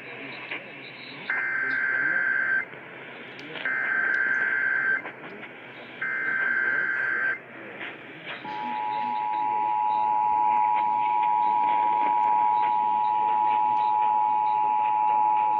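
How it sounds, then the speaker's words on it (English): An Emergency Alert System test on WJR radio: three short buzzy data bursts followed by a long, loud, steady attention tone that runs to the end. "This is a test of the emergency alert system."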